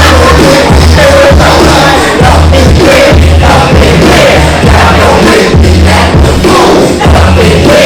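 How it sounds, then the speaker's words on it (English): A symposium crowd cheering and whooping loudly and without a break, over a heavy, thumping low beat. "Please give a round of applause"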